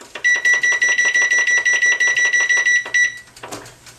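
An electronic kitchen timer beeps in a fast, steady run of loud, high pulses for about three seconds, then stops, leaving a brief clatter, during vegetable curry cooking.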